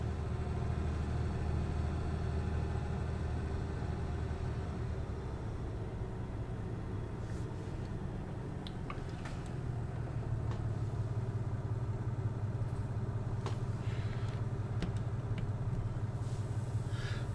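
A tractor engine pulls a Strautmann trailer in Farming Simulator 19, a continuous low mid-pitched drone that holds steady throughout, rising slightly in the second half, with faint clicks scattered over it.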